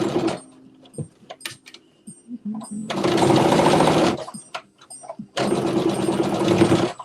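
A sewing machine back stitches a sleeve in two sustained, close bursts of rapid stitching, separated by quieter handling noises and light clicks.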